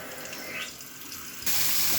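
Hot water runs from a tap in a close, continuous splashing hiss that jumps louder and brighter about halfway through as the flow increases.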